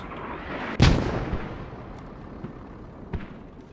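A mortar fires in a combat video game, one loud boom with a long rolling decay, then fainter distant thuds over a steady battlefield background rumble.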